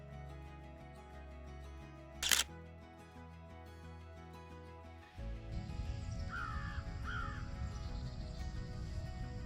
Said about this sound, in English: Pretty sure that was a crow in the distance.